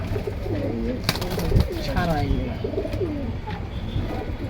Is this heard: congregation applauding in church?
no